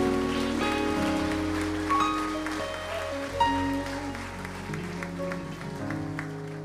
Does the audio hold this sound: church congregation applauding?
yes